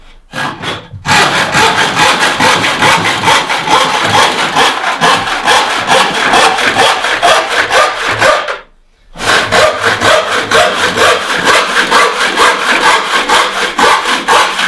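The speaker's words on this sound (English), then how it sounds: "if I have 1 inch pine with this saw, every stroke is 1 inch of progression" A hand ripsaw tears through a 1 inch thick pine board in fast, rhythmic rasping strokes, loud and close, with one short pause partway through before the sawing picks up again.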